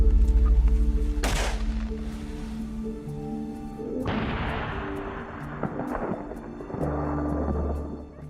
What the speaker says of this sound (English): Without hesitation, I raised my gun and fired decisively.